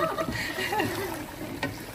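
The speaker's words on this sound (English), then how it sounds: "She's added some water, guys." Water poured into a cooking pot while preparing food for a large gathering, a brief soft splash and trickle under close conversational speech.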